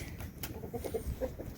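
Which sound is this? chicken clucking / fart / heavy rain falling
chicken clucking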